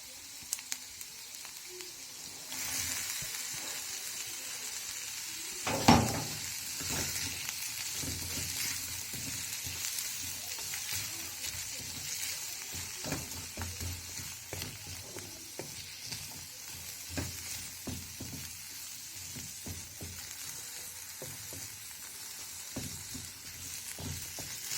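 Chopped capsicum stir-fries in a hot wok for vegetable Hakka noodles, giving a continuous sizzle with intermittent spatula scrapes and one sharp clang early on.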